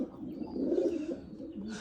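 A McLaughlin banded grizzle racing pigeon gives a low, throaty coo that swells and fades over a couple of seconds, close by and fairly quiet.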